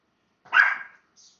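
A dog gives one loud, close bark, followed by a faint short yip in an otherwise quiet room.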